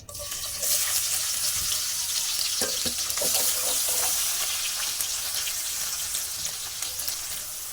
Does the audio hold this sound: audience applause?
no